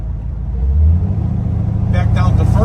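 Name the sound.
1964 Corvette Stingray 327 engine while driving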